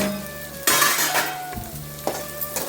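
Pieces of fried omelette are tipped into a pan of sizzling fried ingredients for egg semiya and stirred, producing a sudden burst of crackling followed by steady sizzling and light scraping of the utensil.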